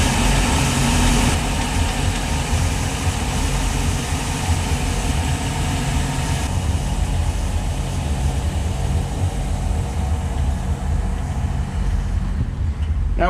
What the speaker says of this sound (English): you can get a sense of just how quiet those engines are here in the cockpit